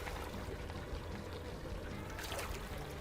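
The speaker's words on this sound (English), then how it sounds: "Now that's done, rinse them in the cold water." In the Gunsmith Simulator video game, UZI gun parts are rinsed in cold water, giving a brief, continuous pouring and sloshing sound, soft and close.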